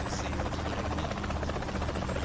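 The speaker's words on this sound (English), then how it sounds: "Oh, now they have a helicopter." Helicopter in the video game Saints Row The Third, a steady rotor thrum and whine holding at moderate level throughout, with no voices over it.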